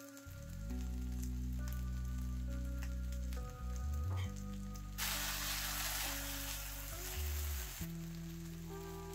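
Potato cubes and mixed vegetables fry in a pan for an omelette, a continuous sizzle with a hum running beneath and a brief burst of stirring partway through.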